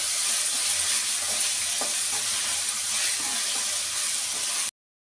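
Ginger-garlic paste fries in hot oil with a steady, bright sizzle and a few soft stirring touches, ending abruptly in silence.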